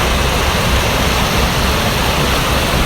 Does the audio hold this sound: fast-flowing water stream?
yes